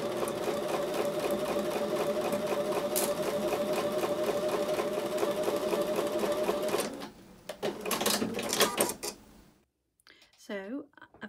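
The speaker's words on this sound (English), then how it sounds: "I'm going to take those over to the sewing machine and sew with a 1/4-inch seam." Sewing machine stitching quilt pieces for a diamond square block with a quarter-inch seam, a fast steady mechanical whir for several seconds, then short stop-start bursts, with a voice talking near the end.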